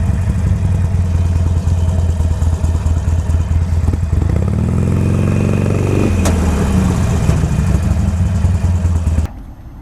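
A Harley-Davidson Iron 883 Sportster rumbles loud and close with a deep, steady engine note, briefly revving up and easing off in the middle before cutting out near the end.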